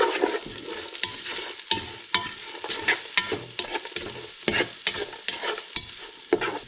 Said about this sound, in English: the leeks are ready to go in and they'll fry in that nice oil for a wee bit